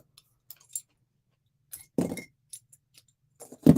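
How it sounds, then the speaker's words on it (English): A pair of scissors is picked up and handled near baker's twine at a crafting table, a few light metallic clinks and clatters, close and sparse, with no talk. "I need a pair of scissors"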